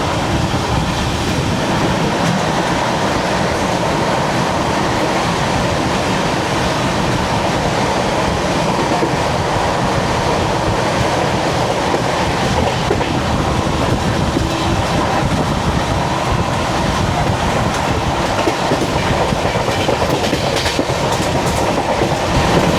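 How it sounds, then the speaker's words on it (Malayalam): The Bangalore–Bikaner Express passes close by, a loud, continuous rumble with rhythmic clickety-clack of wheels over rail joints lasting the whole time. "ബാംഗ്ലൂർ ബിക്കാനേർ എക്സ്പ്രസ് ആയിരുന്നു അത്."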